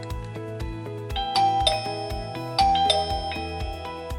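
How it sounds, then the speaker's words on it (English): A ZKTeco wireless video doorbell and its chime sound a pairing tune: repeated bright ding-dong tones ringing out clearly over about four seconds, with no talking. "The doorbell and chime will generate a sound."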